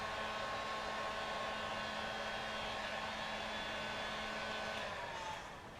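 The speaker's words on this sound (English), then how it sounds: "A little bit easier with the heat gun, a little bit more even." Heat gun blowing hot air in a steady, loud, continuous whoosh with a faint motor whine, running close to the microphone for several seconds before easing off at the end.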